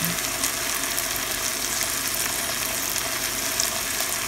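Pork chops and apples sizzle steadily in melted butter in a hot pan, a loud, continuous dense crackle that holds even throughout with no talking.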